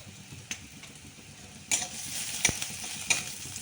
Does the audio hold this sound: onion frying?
yes